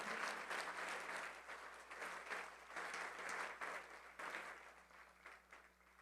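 A church congregation applauding during a sermon, dense continuous clapping with rhythmic swells, moderately distant and fading slightly toward the end.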